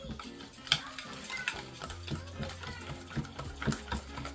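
A spoon stirs a red chili powder mixture for tandoori chicken in a bowl, with soft irregular scraping and clinks, faint and close, over a low background hum.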